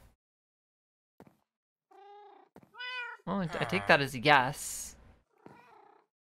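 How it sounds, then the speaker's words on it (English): Cats meow in the video game Minecraft: several short mews rise and fall, followed by a louder, longer run of meows close up, while someone speaks briefly in between. "I guess you're now the owner of three cats."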